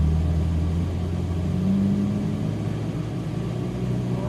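Ferrari 458 Italia engine while driving slowly toward a parking spot, a steady low rumbling drone that stays close and even with no talking.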